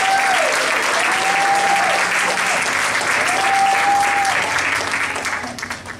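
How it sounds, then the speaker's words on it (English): A church congregation claps warmly at a Sunday morning service, with loud, sustained applause filling the room and a faint held tone drifting underneath before the clapping begins to taper off at the end. "Give him another round of applause"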